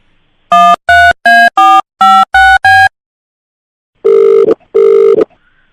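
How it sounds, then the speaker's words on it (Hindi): A phone call being placed: seven quick electronic keypad tones in a steady run, a pause, then two long ringing bursts, loud and close with no voices. "मैं मिथिलेश को फोन कर रहा हूँ"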